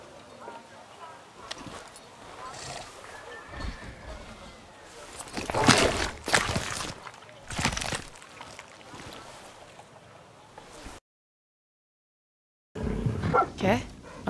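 A dog barks inside a video game set in a world of regular and mythical animals, several short bursts spread through the scene amid other game sounds, followed by a brief silence and more activity.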